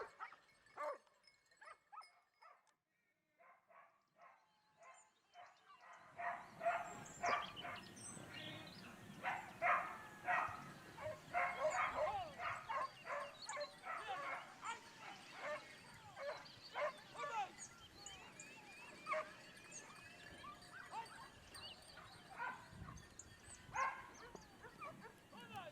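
Pack of hunting dogs barking and yipping at a caught wild boar during a Spanish monteria hunt, near silence at first, then a loud, dense, overlapping chorus of barks and whimpers that keeps going to the end.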